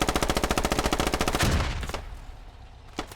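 Sustained automatic gunfire in a tactical shooter video game, a rapid, even burst of about twenty loud shots that stops abruptly and leaves a fading echo, then one more distant report.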